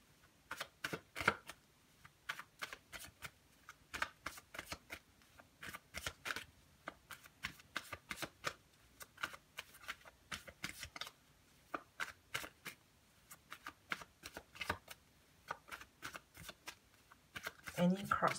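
Tarot cards are shuffled for a love reading in quick, crisp riffling bursts that repeat in an uneven rhythm, close and fairly quiet, while a voice talks throughout.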